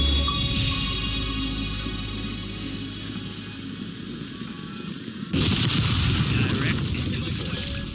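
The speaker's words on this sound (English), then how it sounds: "Deploying bomb run." Heavy rumbling explosions from a bomb run in Call of Duty MW3, a dense continuous roar of blasts that eases off and then surges abruptly louder and harsher near the end.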